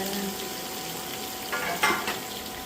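Hot oil sizzles and crackles steadily as mustard seeds are tempered in a pan, with a brief louder burst of popping partway through as the seeds splutter.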